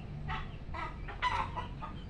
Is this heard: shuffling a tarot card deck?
no